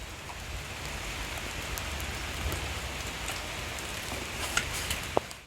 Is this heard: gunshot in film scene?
no